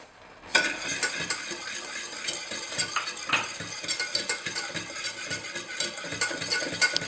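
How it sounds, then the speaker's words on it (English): Sugar whisked into hot milk for phirni in a cooking pan: a whisk rattles quickly and continuously against the metal, with busy clinking and scraping that starts abruptly and keeps a fast, uneven rhythm, close-up and alone. "And whisk it in well together."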